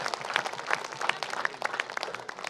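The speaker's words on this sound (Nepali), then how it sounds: "ताली दिनु प्रभुलाई" Church congregation at a prayer service clapping together, a dense, fairly close burst of many hands in a steady patter.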